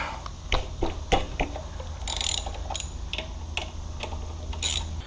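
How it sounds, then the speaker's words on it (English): A ratchet loosening brake caliper bolts on a Gen 1 Nissan Z car, close rapid clicking bursts and metallic ratchet strokes repeating over several seconds, loud, no talking. "we're going to loosen these bolts and take the calipers off"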